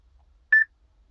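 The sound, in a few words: Tata Nexon EV voice command activation beep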